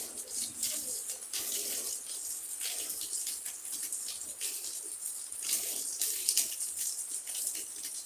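Rain falls steadily at a beach area by the sea, giving a dense, even, hissing wash of water that carries on without a break, fairly loud and close with no talk.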